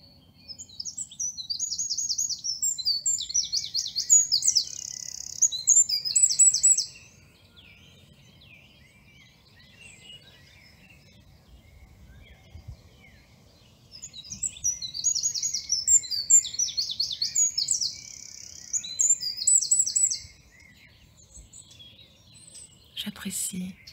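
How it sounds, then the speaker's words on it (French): Birds sing in two bright, quick bursts of twittering phrases separated by a quiet pause, fairly clear over a soft low background hum. "même si je ne comprends pas le message des oiseaux"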